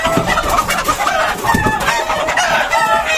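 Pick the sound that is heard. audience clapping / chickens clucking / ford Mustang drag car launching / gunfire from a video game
chickens clucking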